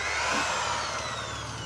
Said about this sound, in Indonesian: Nah ini kita bor dulu sobat sekalian.